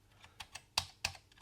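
Typing on the sticking keyboard of a Quantum (Kvant BK) ZX Spectrum clone: about five or six separate clicky keystrokes at an uneven pace, the last two sharper and louder, close and alone with no talking.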